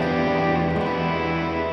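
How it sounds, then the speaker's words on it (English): Sustained electric guitar chord washing out in heavy reverb, notes blurring together into a dense, ringing, slightly distorted drone. "I can kind of simulate this on guitar by turning up my reverb."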